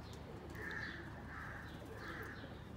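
A pair of Sialkoti pigeons coo in three soft, evenly spaced calls against a steady background hum.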